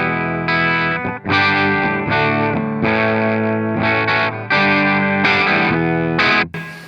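An electric guitar run through a Marshall BB2 pedal at its bass tone setting plays a string of chunky, distorted chords with a thick, warm low end, loud and close, in short rhythmic bursts with no talking.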